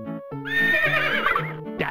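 A horse whinny from the 1994 Super Nintendo game Mario's Early Years, a loud, close, quavering neigh lasting over a second and sitting over a sustained synthesized chord, with no talking.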